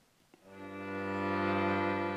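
A sustained chord rings out after a brief tap, swelling slightly and holding steady, full and resonant with no voices.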